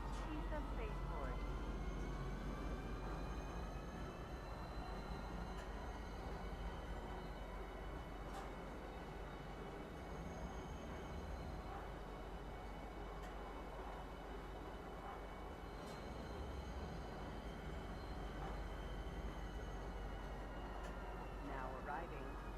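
In the Star Citizen video game, a train pulls into a spaceport station with a steady rumbling roar and rising and falling whines, along with faint clanks. The noise is continuous and fairly close, and a voice speaks over it.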